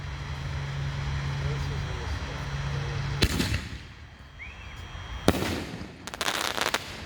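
Voices in the Sky canister shell fireworks bursting outdoors, a steady background hum broken by several sharp loud cracks and crackling reports in separate bursts, with a faint whistle between them.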